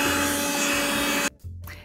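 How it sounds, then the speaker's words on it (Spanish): A household vacuum cleaner sucks up baking soda with a loud, steady whirring roar that cuts off suddenly, followed by brief rubbing and scraping noises. "cogemos la aspiradora y aspirar."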